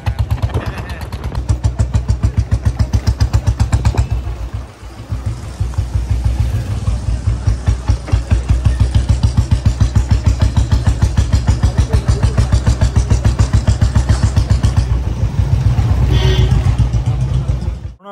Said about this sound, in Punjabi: ਮੇਰੇ ਨਾਲ ਬੁਲਟ ਦੁੱਗ ਦੁੱਗੇ ਹੁੰਦੀ ਹੈ